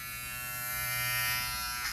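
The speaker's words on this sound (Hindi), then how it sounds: "ये फिलिप्स के ट्रिमर से ना डीलर का मुंडन हो जाता है" Steady, close electric buzzing of a Philips hair trimmer, running continuously with a slight rise in intensity near the end.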